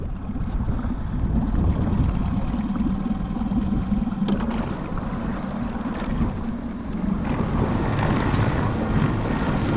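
A boat outboard motor, cold and reluctant to start, runs steadily with a rough, broadband drone, mixed with wind buffeting the microphone outdoors in rain and strong wind.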